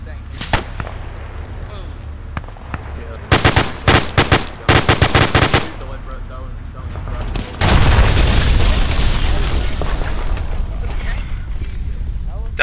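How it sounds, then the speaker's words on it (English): Anti-tank weapon fire in ArmA 3 on a Guadalcanal battlefield: a burst of rapid gunfire gives way to a heavy, sustained roaring boom that stays loud and close, with voices talking among the gunfire. "That was anti-tank."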